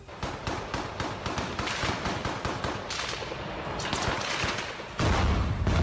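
Russian soldiers firing from cover behind a building at Ukrainian troops in the Mariupol battle, with rapid, continuous bursts of automatic gunfire echoing at moderate distance.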